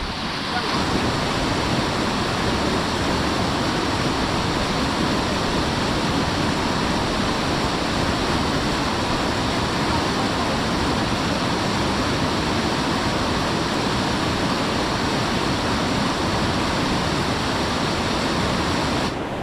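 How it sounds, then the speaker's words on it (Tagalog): A strong river current flows through a forest, a loud, steady, unbroken rush of water that fills the whole stretch without letting up. "lakas po ng agos"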